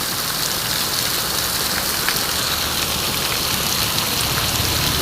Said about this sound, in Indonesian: Hujannya luar biasa besarnya.